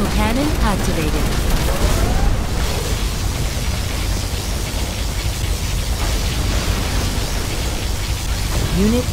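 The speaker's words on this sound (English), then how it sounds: "Particle cannon activated." A particle cannon fires in the real-time strategy game Command & Conquer Generals, a dense, sustained roaring blast filling the whole clip, with game voice lines heard over it.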